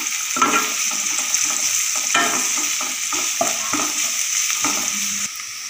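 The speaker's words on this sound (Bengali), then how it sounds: "পেঁয়াজটা আমি হালকা ব্রাউন কালার করে ভেজে নেব।" Chopped onions fry in oil until lightly browned, a steady close sizzle running throughout with intermittent scraping stirs and soft utensil knocks.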